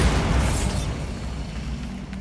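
The Bombarda spell goes off in Hogwarts Legacy as a loud, close blast with a heavy low boom and a bright crackling burst, then a rumbling tail that slowly decays.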